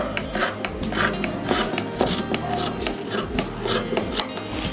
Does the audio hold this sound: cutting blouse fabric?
yes